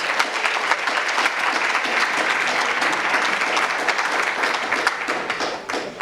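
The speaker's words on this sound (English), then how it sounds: "another round of applause for all of our student speakers" An audience at a university student leadership forum on diversity and inclusion gives a sustained, dense round of applause for student speakers, steady throughout and tapering slightly at the end.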